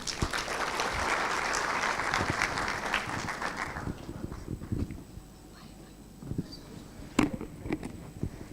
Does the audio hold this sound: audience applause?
yes